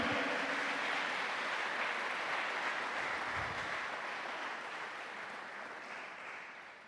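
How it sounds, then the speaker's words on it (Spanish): A church congregation applauding, a steady wash of clapping that gradually fades, moderately distant and without speech. "Dele un aplauso al Señor."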